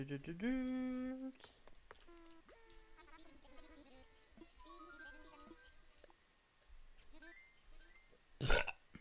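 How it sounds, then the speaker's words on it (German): A loud, deliberate human burp from a streamer playing Animal Crossing: New Horizons, one drawn-out croaking belch near the start, with game sounds and music continuing behind it. "Entweder Husten oder ein Rülpser. Da habe ich mich dann für den Rülpser entschieden."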